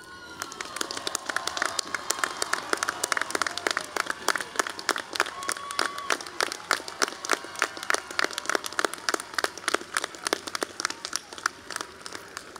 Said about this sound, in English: Graduates, please join me in a great round of applause